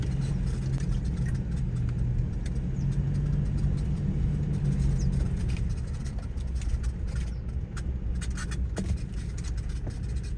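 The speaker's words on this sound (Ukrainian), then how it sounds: "Якраз поки трактор під'їжджає" A steady low tractor engine rumble runs throughout at a constant level, approaching across a sunflower field, with no voices.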